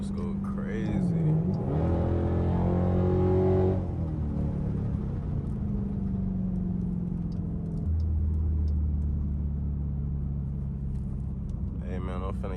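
Straight-piped Dodge Durango engine rumbling and revving through gear shifts, a loud steady low drone that swells, drops and rises again, with someone talking over it.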